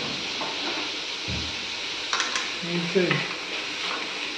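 Mushroom chilli fry cooking in a pan, a steady broadband sizzle with a few utensil scrapes and stirring knocks, heard close and alone with no talk.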